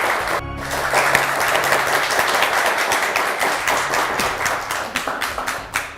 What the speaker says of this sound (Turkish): Önce bir alkış